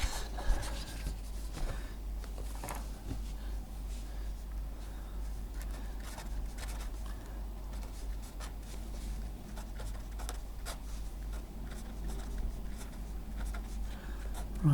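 Steady pencil or pen scratching on a separate sheet of paper, soft continuous rubbing strokes close by while a maths problem is worked out, no talking over it.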